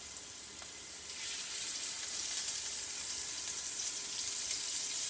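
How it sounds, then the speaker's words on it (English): Short ribs browning in a hot pan give off a steady, bright sizzle that swells slightly after the first second and holds loud and even, with no talking. "You want to hear that sizzle."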